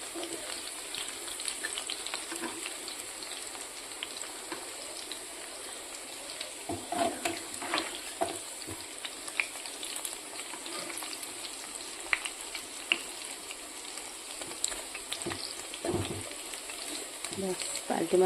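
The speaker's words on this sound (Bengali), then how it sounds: "পুঁই পাতার পকোড়াটা নামিয়ে ফেলেছি হয়ে গেছে খোলা লাল করে ভেজে নিয়েছি" Malabar spinach leaf pakoras fry in hot oil with a steady, close sizzle and crackle, with occasional stirring clinks and light bubbling bursts throughout.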